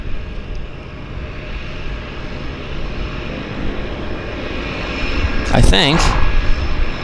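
A floatplane engine drones steadily at Vancouver's downtown harbour airport, moderately near and continuous, while someone talks briefly over it.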